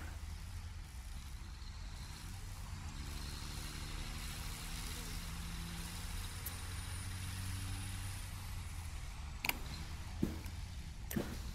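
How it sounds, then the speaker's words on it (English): A truck driving in the video game Satisfactory gives a steady low engine hum with a few shifting tones, and near the end a couple of sharp knocks cut in. No voices are heard. "This is my little driving around truck."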